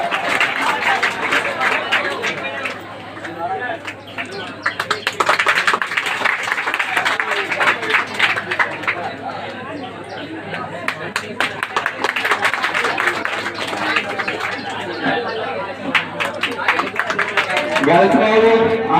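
Audience clapping at a coaching centre award ceremony, a steady dense applause that runs the whole time with crowd chatter mixed in.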